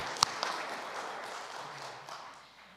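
A church congregation applauding during a Sunday service, a continuous wash of many hands clapping together at moderate loudness that slowly fades over a few seconds, with a couple of sharper claps standing out near the start.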